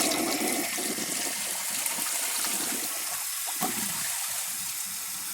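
A Wellworth toilet flushes with a steady rushing gush of water, trying to carry a washcloth wrapped in a grocery bag down the bowl; the water noise is loud and close, filling the whole stretch without letting up.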